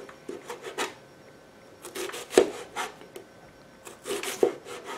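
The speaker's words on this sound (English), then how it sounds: "let me just go ahead and cut the onion very thinly sliced" A kitchen knife slices an onion thinly on a cutting board for a tomato-mozzarella salad, producing quiet scraping strokes and a few sharp taps as the blade meets the board in irregular bursts.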